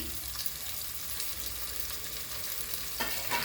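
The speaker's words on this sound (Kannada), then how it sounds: "ಈಗ 6 ರಿಂದ 7 ಹಸಿಮೆಣಸು ಉದ್ದುದ್ದ ಹೆಚ್ಚಿದ್ದನ್ನು ಹಾಕ್ತಾಯಿದ್ದೀನಿ." Slit green chillies and onion frying in a pan for methi palav, a constant close crackling sizzle with light stirring scrapes and a few sharper clinks toward the end, no voices.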